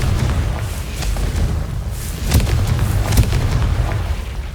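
Deep booming blasts from the Confringo blasting curse in Hogwarts Legacy, a rolling low rumble punctuated by two or three sharper explosive hits, loud and close.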